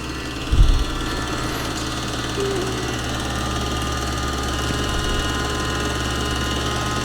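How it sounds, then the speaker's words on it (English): A film projector runs at a changing speed, giving a steady mechanical drone with a faint tonal whine and a slow pulsing, plus one brief thump near the start, continuous and moderately loud throughout. "I slowly change the speed of the projector"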